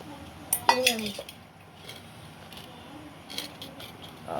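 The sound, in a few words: tiffin boxes clinking while being set down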